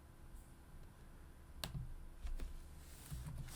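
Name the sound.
typing on a computer keyboard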